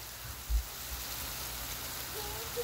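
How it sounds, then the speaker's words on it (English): Hard hail falls during a hailstorm as a steady, even pattering wash over a surface, with one dull thump standing out briefly; no voices are heard. "It's hailing so hard."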